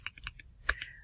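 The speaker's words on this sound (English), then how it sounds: "I think my keyboard keys are sticking." Typing on a computer keyboard with sticking keys: a short run of close, uneven key clicks, a few scattered taps then a louder cluster of strokes near the end.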